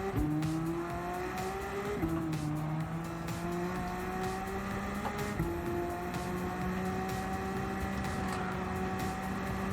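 A Subaru WRX STi fitted with a swapped Porsche engine making 1,000 horsepower races in Gran Turismo 7, its engine droning steadily and loudly through the gears, with sharp pitch drops at each shift and faint tire noise.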